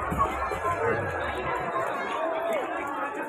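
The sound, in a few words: crowd chattering at a Jayanti gathering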